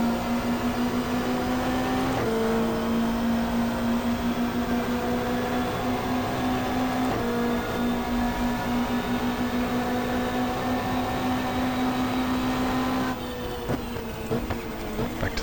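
A Super Touring car from the 1995 Australian championship on the Gold Coast Indy street circuit, heard from onboard as a loud, steady engine drone whose pitch steps abruptly at a few gear changes, ending in a rougher, quieter stretch.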